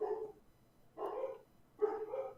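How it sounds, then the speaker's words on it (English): A dog barks three times in a row, each a short, fairly faint woof with brief gaps of quiet in between, heard from some distance indoors. "My dogs are barking."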